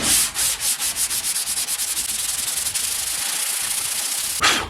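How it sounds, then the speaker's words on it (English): Rhythmic scraping of a sanding block on high-build primer on a Chevrolet Silverado, quick back-and-forth strokes at first, then a continuous close hiss of abrasive rubbing. "Keep your block nice and flat, go in X shapes, and just keep sanding until you see this stuff disappear."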